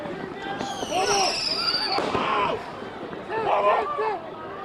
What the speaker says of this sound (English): it looks like some fireworks went off